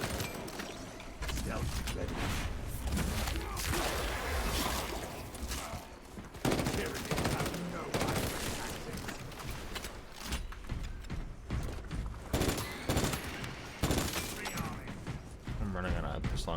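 Dense video-game gunfire, with pistol shots and rapid bursts, crackles almost nonstop alongside mechanical clanks and crashes, loud and busy throughout, while a voice speaks over it.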